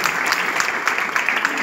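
Audience applauding a female singer before she performs a song, dense steady clapping throughout, fairly loud and continuous with no break.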